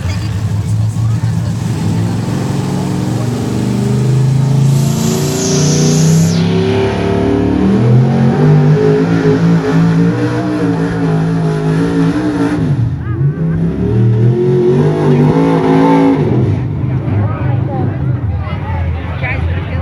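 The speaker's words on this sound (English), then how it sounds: "Another truck having a hard time going down this track tonight." A pulling truck's engine roars and revs hard on the truck pull track at Mercer Raceway Park, its pitch climbing and dipping loudly throughout while an announcer talks over it.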